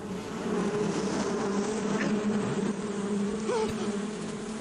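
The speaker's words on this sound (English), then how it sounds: "Oh, hey, look, bees." Bees buzz in Metal Gear Solid 3 as a dense, steady drone that holds at an even loudness throughout, with no talk over it.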